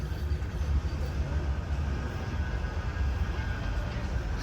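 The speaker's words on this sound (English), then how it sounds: "Oh, tram incoming." Low, steady rumble of a tram drawing near, a dense rolling drone that holds at a fairly constant loudness throughout.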